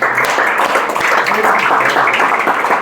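A church congregation applauds loudly and continuously, a thick wash of clapping with a few voices mixed in.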